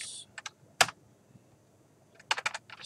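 Typing on a computer keyboard while writing PIC18 assembly code: a few sharp, close key clicks, a pause, then a quick cluster of keystrokes near the end.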